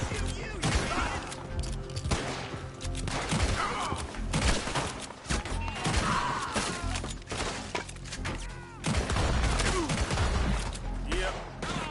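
Dense bursts of gunfire from a shootout in Red Dead Redemption 2: close, loud shots and crashing impacts pile up continuously, with shouting voices mixed in.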